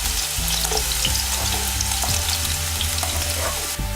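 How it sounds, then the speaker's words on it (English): Chopped onion sautéing in hot olive oil in a pan, a loud continuous sizzle with a few stirring scrapes and knocks throughout, with no talk. "Now the oil is hot. I am going to add onion first. Just saute it for a minute."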